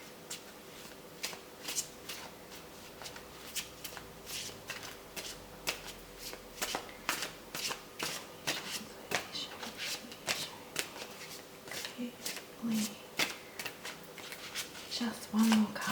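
Tarot cards being shuffled by hand during a reading, a run of crisp riffling snaps and flicks at an irregular pace, close and fairly quiet, with occasional soft handling noises between bursts.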